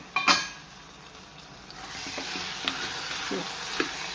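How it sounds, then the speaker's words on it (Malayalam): Brinjal and tamarind for a Kerala theeyal cooking in a pan, a soft continuous sizzle with occasional stirring scrapes and small pops, close by and without talk. "ഈ പുളിയും വഴുതനയും എല്ലാം കൂടെ ഒന്ന് വെന്ത് വരട്ടെ"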